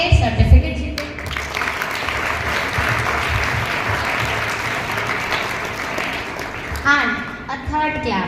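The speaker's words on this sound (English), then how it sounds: "a third clap for those who participate but doesn't get medal or prize" An audience at an Olympiad prize ceremony breaks into loud, sustained applause, a dense wash of many hands clapping, with voices speaking briefly at the start and near the end.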